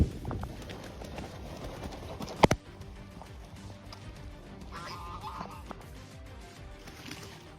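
A gaggle of geese honks and quacks in a busy, layered chorus, with a sharp loud honk standing out early and steady clattering calls continuing after it.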